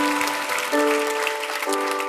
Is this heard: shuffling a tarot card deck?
no